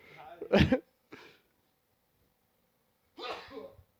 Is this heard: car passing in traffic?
no